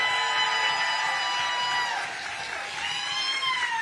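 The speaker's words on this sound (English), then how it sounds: "Let's give them a round of applause" An audience at a Democratic political rally claps and cheers, a sustained crowd roar with high whistles and shouts riding above the steady applause.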